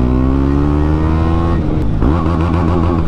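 KTM Adventure 390 motorcycle fitted with a BMC air filter, its engine revving loudly and close up, rising in pitch, then dropping off before climbing again.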